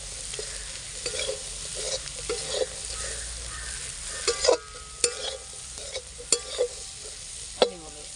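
A spoon stirs cowpeas roasting in a pan, scraping and clinking in repeated irregular strokes over a soft steady sizzle, close and moderately loud with no talking.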